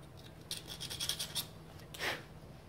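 Oily wet-and-dry abrasive paper scrubs a part of a 1959 Victa 18 lawn mower, giving a run of quick close rasping strokes, a short pause, then one longer scrape, with no talking.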